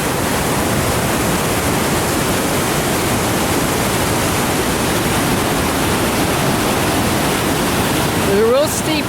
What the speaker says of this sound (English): And you can see the waterfall there.